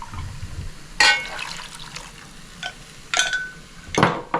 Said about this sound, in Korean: 이걸 위에다 이제 부어주세요